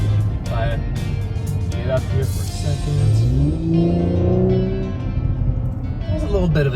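A V6 car engine rises in a deep howl as it accelerates, its pitch climbing steadily and loud up close, with someone talking over it throughout.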